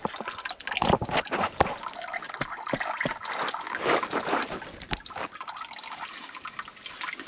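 Fluid, about a quart, is poured into a Hitachi EX120-2 excavator during servicing, giving an irregular gurgling, splashing trickle with sharp drips throughout, fairly close and moderately loud.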